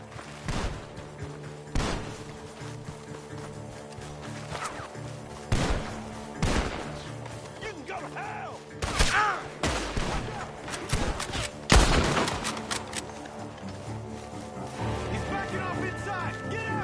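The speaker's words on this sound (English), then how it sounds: "Gunshots are coming from that barn!" Gunfire cracks out of a barn in Red Dead Redemption 2, sharp shots and short bursts popping irregularly over about seventeen seconds amid game ambience and music, with voices talking between the volleys.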